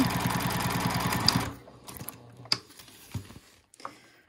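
A sewing machine stitching the fabric seams of a bow tie, with short backstitches: a fast, close mechanical whirr for about a second and a half, then scattered small clicks and taps as it stops.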